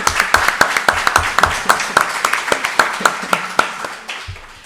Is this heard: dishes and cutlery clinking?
no